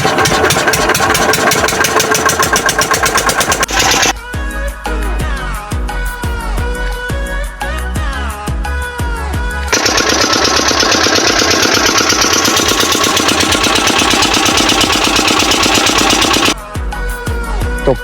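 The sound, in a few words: diesel engine of water pump starting and idling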